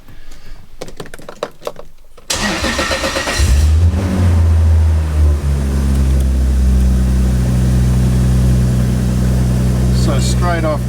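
Toyota Soarer with a 2JZ-GTE engine: clicks and fumbling, then the starter cranks and the engine catches. It settles into a loud steady idle with a slight rise, with some talk early on.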